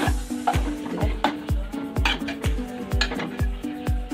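Prawn curry (kolambi rassa) being stirred in a pan with oil: rhythmic metallic scrapes and taps of a spoon against the pan, roughly twice per second, close and clear with no talk.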